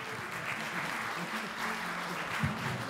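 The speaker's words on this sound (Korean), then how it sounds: "감사의 박수 한번 주십시오" Dense, steady audience applause fills a hall at a Korean military-affairs website's milestone celebration, loud and continuous for the whole stretch with a faint murmur of voices underneath.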